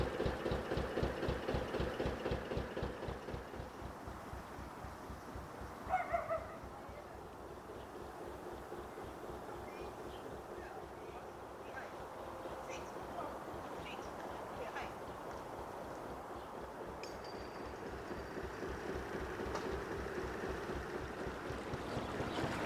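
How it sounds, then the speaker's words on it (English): A narrowboat's low engine chugs steadily with a regular throbbing rhythm, close by on a canal, over a broad wash of water and ambient noise; a brief whistle-like tone cuts in once. "Just waiting for a boat that's coming through in the other direction."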